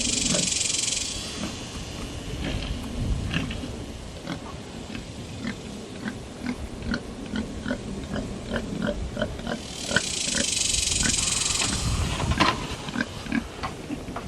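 A pig in a watered-down pen grunts and snuffles close by in short, irregular bursts, with two stretches of loud hissing spray.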